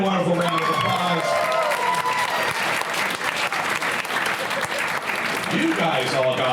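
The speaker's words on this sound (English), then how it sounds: "Give Alex and this day a wonderful round of applause" Loud comedy club audience applause fills the room continuously, dense clapping mixed with crowd noise and some voices, steady from start to finish.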